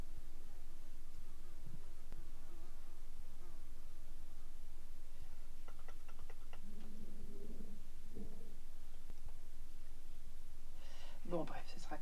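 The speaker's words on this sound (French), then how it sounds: "J'ai une mouche qui vient m'embêter." A housefly buzzes intermittently near and around a woman working on a project-life scrapbook page, its whine coming and going over a steady room background while she talks throughout.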